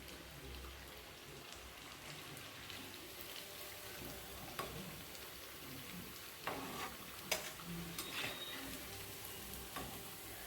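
Steady crackling sizzle of lentil dumplings frying in hot oil, continuous throughout, with a few sharper pops and clinks from stirring.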